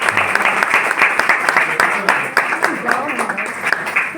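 Loud, sustained clapping from an audience at a group meeting fills the whole stretch with dense, steady applause, with a few voices faintly calling out underneath.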